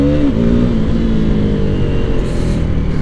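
A KTM Duke 390 single-cylinder motorcycle engine running loud and close on a test ride, a steady buzzing drone with a brief pitch drop near the start, then a constant throbbing hum.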